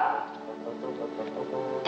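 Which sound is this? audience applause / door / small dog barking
small dog barking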